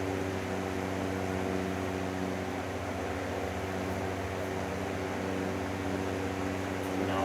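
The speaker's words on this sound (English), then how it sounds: "Fan on the right is still playing catch up here. Definitely running a little bit more evenly now." A GE F11T2 twin window fan runs on its motors, a steady, even whir with a constant hum and airy hiss, fairly quiet and uninterrupted.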